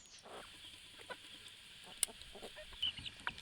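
Adult chickens cluck softly and intermittently nearby while eating buckwheat, with scattered pecking and scratching sounds and faint bird chirps in the background.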